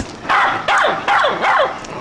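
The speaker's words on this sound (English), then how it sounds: "As the fans bark from the audience" Wrestling fans in an arena audience bark during a match, four loud, yelping dog-like calls in quick succession that ring out over a low crowd murmur.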